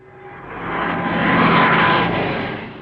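A propeller aircraft flying from an auxiliary aircraft carrier's deck passes overhead, its engine drone swelling to a loud peak midway and then easing off, steady and alone with no voices.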